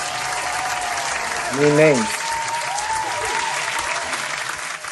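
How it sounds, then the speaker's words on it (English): An audience gives a round of applause during a practice quiz session for the Danish citizenship test. The dense, steady clapping lasts the whole stretch, and a voice speaks briefly near the middle. "And round of applause."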